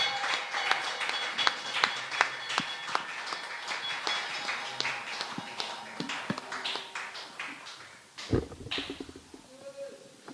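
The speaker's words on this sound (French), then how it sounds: "With your great claps, I want you to receive Pastor Odo Elwanga as he's coming now." A church congregation claps to welcome a pastor, with a steady stream of sharp hand claps, fairly close and moderately loud, followed near the end by a heavier thump and some background voices.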